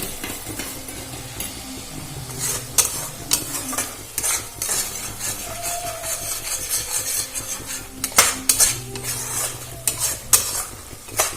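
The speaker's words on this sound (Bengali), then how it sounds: "এটা খুব ভালো করে নাড়াচাড়া করে ভেজে নেব।" Rohu fish kalia frying in a pan, with a steady sizzle and repeated clinks and scrapes of a metal spatula stirring against the pan, under soft background music.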